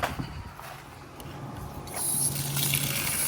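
Water gushes steadily from an outdoor spigot at an apartment complex, with a faint mechanical rattle early on as the flow opens up and grows louder and fuller after about two seconds.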